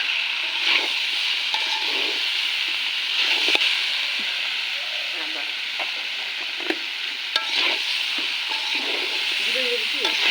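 Jackfruit curry fries in a pan with a steady, dense sizzle, broken by periodic scraping stirs and soft clinks throughout, close and continuous with no talk.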